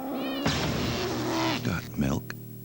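A cat meows amid other noise, a short broadcast clip with voices and a mewing tone near the end, sounding fairly close over a busy background.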